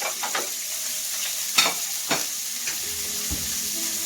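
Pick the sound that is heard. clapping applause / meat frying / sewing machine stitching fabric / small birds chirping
meat frying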